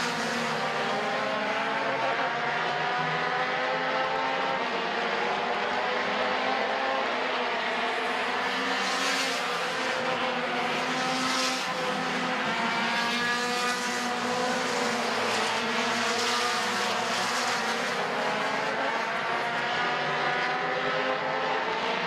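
Race cars roar around the oval at Midvale Speedway during a racing event, a dense continuous engine drone with cars surging past, loud and sustained for the whole stretch.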